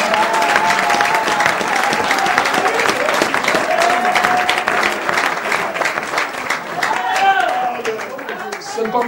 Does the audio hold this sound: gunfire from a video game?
no